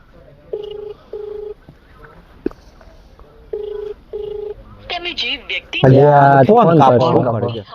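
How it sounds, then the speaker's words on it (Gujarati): Phone being dialed: a few paired DTMF keypad tones beep in short bursts, followed by a clear, loud ringback or ringtone pattern with voices talking over it at the end. "રાહુલ નો ફોન લગાવી દઉં"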